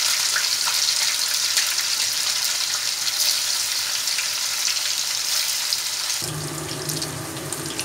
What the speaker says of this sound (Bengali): এইভাবে পনিরগুলো দিয়ে হালকা করে ভেজে নিতে হবে, বেশি কিন্তু ভাজতে হবে না।